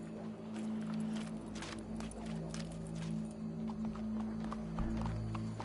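Horse hooves clip-clop in a PS4 video game: a steady, even clopping rhythm plays over a low droning hum of background game music.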